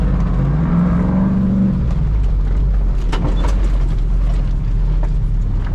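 A built 392 Jeep Wrangler drives offroad with a loud, continuous engine drone and rising revs. Bumps and rattles from the rough ground come through inside the cabin, with no talking.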